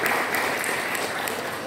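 Congregation applauding at an Easter church service, a steady dense wash of many hands clapping throughout, moderately loud and close, with no clear pauses.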